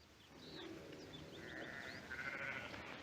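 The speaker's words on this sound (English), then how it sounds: "Now, Drummond, get those sheep out now" A flock of sheep on ranch land in a western TV drama bleats faintly in the distance, with a few overlapping calls building toward the end. A quiet outdoor hum runs underneath.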